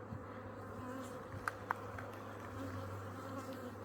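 Honeybees buzz around an open beehive during an inspection, a faint, steady hum close by with a couple of brief sharp clicks.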